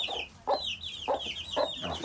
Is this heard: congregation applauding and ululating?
no